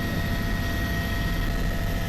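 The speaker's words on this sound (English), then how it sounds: "we're just waiting on a couple of helicopters to come in and land" A tour helicopter near the Grand Canyon comes in to land, its engine and rotor making a continuous, fairly loud droning whir with a steady tone held across the whole stretch and no talking.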